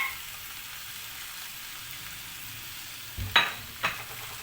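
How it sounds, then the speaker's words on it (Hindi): Okra (bhindi) frying with masala spices in a pan makes a faint, steady sizzle, broken near the end by two or three brief utensil knocks. "अब मसाले के साथ हम इसको मज़ीद 2 मिनट फ्राई करेंगे।"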